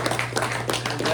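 Applause from an audience, a steady patter of many hands clapping, fairly close and continuous throughout the short moment.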